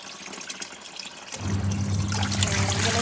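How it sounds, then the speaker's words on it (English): Tap water runs while rinsing in a Superbrite portable washing machine, starting abruptly about halfway in as a loud, steady gush after quieter background noise. "And I'm gonna stop my running water."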